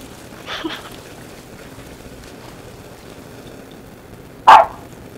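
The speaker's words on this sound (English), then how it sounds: "Oh, doggy." A dog in Animal Crossing New Horizons gives two short yips during a swimming scene, a faint one early and a sharper, louder one near the end, with quiet gaps between.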